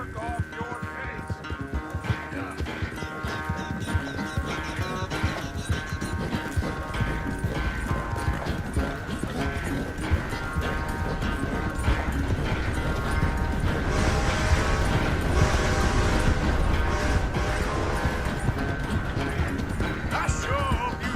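Rhythmic clip-clop of horse hooves galloping in Red Dead Redemption 2, a steady fast drumming of hoofbeats running throughout, mixed with tack rattle, occasional thumps and background game sound, loud and close.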